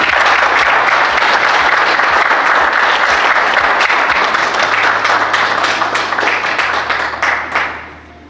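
A large crowd applauds loudly and continuously for several seconds, the clapping dense and sustained before tapering off at the end.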